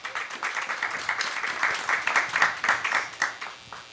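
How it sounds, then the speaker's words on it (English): Audience applause for a speaker at a music city forum in Houston: a steady, moderately loud patter of many hands clapping for about four seconds, with no talk over it. "So let's give Mr. Shain Shapiro a big round of applause."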